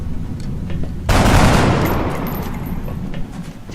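A shotgun blast in the XCOM Long War video game, one loud sudden burst with a long ringing decay, alone and with no voices.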